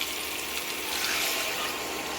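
Water poured from a vessel onto chopped sweet pumpkin in a pressure cooker, a soft steady splashing gush that runs continuously and fairly quietly.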